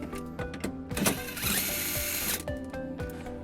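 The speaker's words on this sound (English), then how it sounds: "It's held in by one bolt that we'll remove using a 10mm socket." Removing the single bolt of a cargo hook in a 2013 Honda CR-V with a 10mm socket on a power driver produces a close whirring mechanical buzz with stuttering ratchet clicks and a rising whine.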